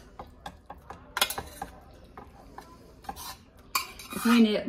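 Rice is stirred into a pot of stuffed green pepper soup, giving irregular metallic clinks and scrapes of a utensil against the pot that build into a busier scraping burst at the end.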